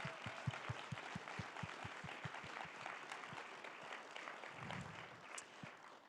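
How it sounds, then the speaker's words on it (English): An audience at a school district event applauds, a broad wash of many hands clapping at moderate distance, with a rhythmic thumping pulse underneath early on before fading into a softer ongoing patter. "one more round of applause for our amazing schools"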